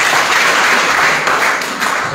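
Congregation applauding at a church service, a dense steady wash of clapping from many hands throughout, fairly loud and continuous with no talk.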